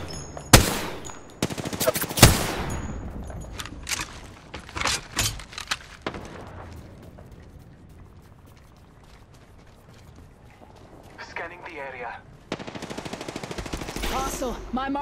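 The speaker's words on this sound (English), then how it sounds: "The enemies are shooting at me." Enemy gunfire in the battle royale Apex Legends, loud sharp bursts of automatic shots clustered near the start, then fading to sparse distant pops before another heavy burst near the end.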